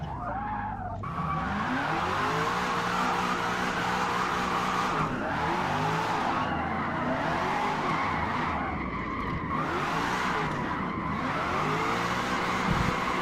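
A BMW's tires squeal continuously while drifting in a racing video game, long wavering screeches over a loud engine drone, sustained across the whole stretch.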